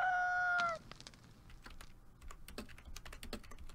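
A synthesized chicken cluck from the Town of Salem video game rings out briefly at the start, followed by a run of soft, irregular keyboard typing clicks.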